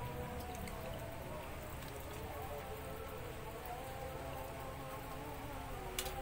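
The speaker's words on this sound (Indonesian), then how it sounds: "Ini hujannya tuh deras banget." Heavy rain falls at night in steady, dense patter that fills the whole clip, with faint scattered drips standing out near the end.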